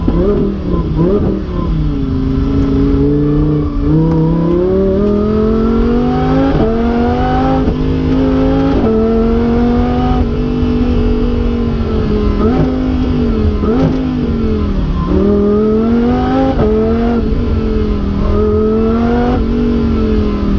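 A Lamborghini Huracan VF accelerating hard on a canyon road, its loud engine note climbing and dropping through repeated rising revs and gear changes, continuous and close throughout.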